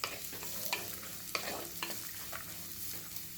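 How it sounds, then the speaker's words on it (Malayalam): Bitter gourd sautéing in oil for a theeyal curry gives a soft, continuous sizzle broken by scattered scrapes and clacks of stirring, fairly faint and with no voices. "ആദ്യം പാവയ്ക്ക എണ്ണയിൽ നന്നായിട്ടൊന്ന് വഴറ്റിയെടുക്കുമ്പോൾ കുറച്ച് കയ്പൊന്ന് കുറഞ്ഞു കിട്ടും."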